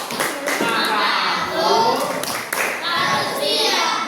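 Children clap together in a classroom "tepuk diam" quiet-down routine, producing a steady patter of rhythmic hand claps mixed with overlapping young voices.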